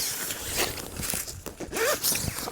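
A double zipper on a Eureka Solitaire AL backpacking tent is pulled open with several quick, rasping strokes close by, and the rustle of nylon fabric can be heard between the pulls.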